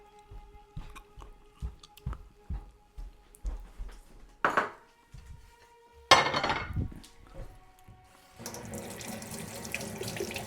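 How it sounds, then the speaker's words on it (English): Tap water runs into a kitchen sink while hands are washed, preceded by a series of clinks and knocks of dishes being handled, with the running water steady and close for the final seconds. "I'm washing my hands"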